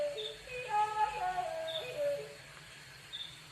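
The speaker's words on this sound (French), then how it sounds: "Vous entendez les bruits des oiseaux?" Birdsong in an outdoor setting: several short whistled phrases and chirps, a brief cluster near the start and another burst mid-clip, moderately close, with faint high calls recurring at intervals and no talking.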